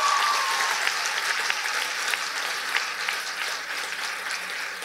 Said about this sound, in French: je pense qu'elle mérite une belle main d'applaudissement pour ça